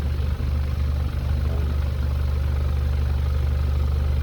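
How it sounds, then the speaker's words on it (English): A Mazda Miata NC with a stock exhaust and an exhaust leak idles steadily with a deep, rumbling exhaust drone and slight irregular puffs, close by and continuous, no talking. "I think it does sound like a bit of an exhaust leak."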